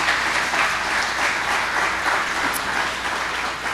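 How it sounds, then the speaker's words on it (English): A crowd at a local Republican political meeting applauds steadily, a dense wash of many hands clapping for several seconds with no voices. "let's give them a round of applause for the work that they've done tonight"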